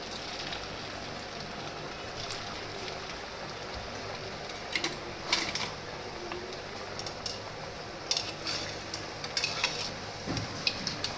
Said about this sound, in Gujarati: હવે આપણે એને તરવા માટે એડ કરી દઈએ અને ધીમી આંચે તરવાના